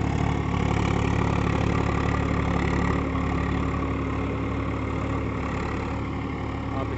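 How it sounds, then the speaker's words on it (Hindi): Swaraj 744 XT tractor diesel engine idling steadily at close range, a constant low rumble with a strong harmonic hum that holds even throughout, with no talk over it. "आप इसकी आवाज़ देख के बताएं कितने आरपीएम पे होगा"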